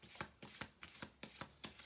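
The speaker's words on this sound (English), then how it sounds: "I'm going to do one more shuffle through" A deck of playing cards being shuffled by hand in a quiet room, giving about eight crisp, evenly spaced riffling bursts in quick succession, close and clear with no talking.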